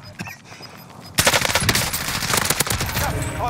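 Video game gunfire begins after a quieter lead-in: sudden loud automatic bursts rattle out in rapid, overlapping volleys, close and intense, continuing to the end.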